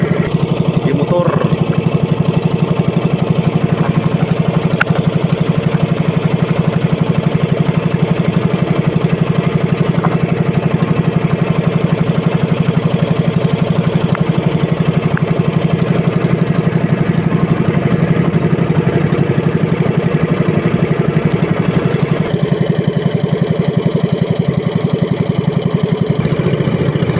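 A motor engine on a small fishing boat out at a fish coral in the provinces chugs loudly and steadily at close range, an unbroken drone running the whole time.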